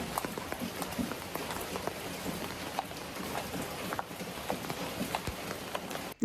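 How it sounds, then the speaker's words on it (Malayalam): Rain falls in a Wayanad forest, a steady soft wash of drops with scattered louder individual splashes and taps on nearby surfaces, fairly quiet and continuous. "മഴ പെയ്യുന്നുണ്ട്"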